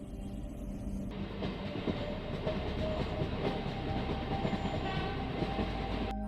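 A moving train heard from inside a fairly empty passenger carriage gives a steady rumbling roar with faint rhythmic wheel clatter. A high horn tone sounds briefly in the distance, and nobody talks.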